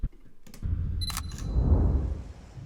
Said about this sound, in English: I have this shot of the camera, so I actually added in a shutter sound